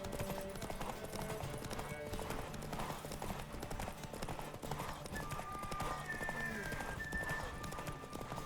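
Hooves clip-clop in a steady rapid rhythm as a horse gallops in The Witcher 3: The Wild Hunt next-gen edition, with a neigh and game ambience mixed in under someone talking.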